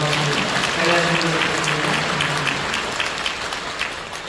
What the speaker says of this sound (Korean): 박수 주시고